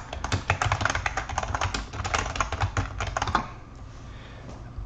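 Rapid clacking keystrokes on a computer keyboard during a Roblox gaming session, loud and close, a flurry of taps for about three seconds before easing off into quieter background.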